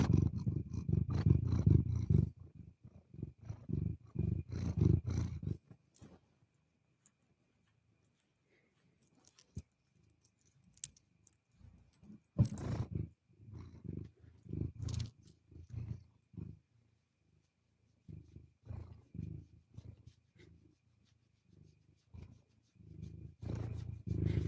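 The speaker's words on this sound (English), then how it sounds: "Are you purring? She's purring." Luna, a pet cat, purring in steady low rumbling pulses close by, with a few quiet pauses and a brief clatter near the middle; no talking.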